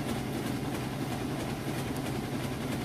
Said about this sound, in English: All right, and here we are on full spin. It's going full speed.